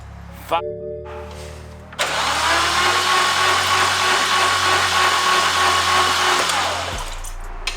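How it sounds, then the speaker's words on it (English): A BMW E90 335i with an N54 engine cranking over for a compression test, fuel pump disconnected: a loud, steady mechanical whir that holds for several seconds close to the car, then drops away. "now it was time for the compression test"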